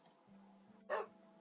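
A pet dog in a video game gives a single short, soft bark after a faint yip, heard alone over a low background hum.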